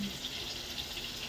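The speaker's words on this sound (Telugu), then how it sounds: "శనగపిండి కలిపి పోయాలి" A gram flour (besan) mixture for chutney pours in a steady, hissing liquid stream, close and continuous throughout.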